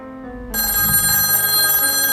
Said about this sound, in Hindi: टेलीफोन का साउंड सुनकर आरना की नींद टूट गई